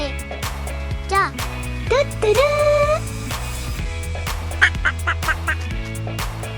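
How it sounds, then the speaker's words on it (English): A duck quacks and honks in several rising, nasal calls, moderately loud and close, over a steady background bed of sound. "D-U-C-K. Duck."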